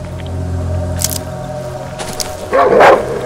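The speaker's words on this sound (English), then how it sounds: "That's a dog." A single gruff bark from a dog in the horror game Darkwoods rises near the end, louder than the low droning ambience and faint rustles before it.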